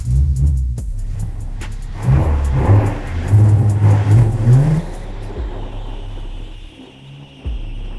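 A budget drift car revving hard nearby, engine roaring up and down in bursts for several seconds, then dropping to a lower idle rumble, loud and without talk.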